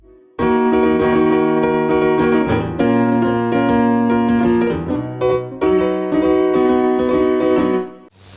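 Guitar-style MIDI controller driving a polyphonic synth, strummed chords ringing out loud and sustained, with several chord changes in a steady strumming rhythm and no talking.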